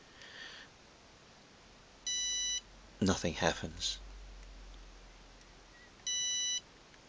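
A battery solar system inverter alarm sounds two identical short electronic beep bursts several seconds apart, close and clear, with someone talking briefly between them.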